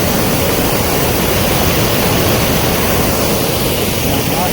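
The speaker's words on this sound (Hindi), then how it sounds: "दोनों वाटरफॉल यहाँ पे आके ज्वाइन होते हैं" Two streams of a waterfall join and pour together in Jim Corbett National Park, making a loud, close, unbroken roar of rushing water that fills the whole clip.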